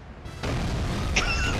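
An explosion in the video game 007: Agent Under Fire hits as a sudden loud burst that stays as a dense roar, with bright, cheerful game music entering over it.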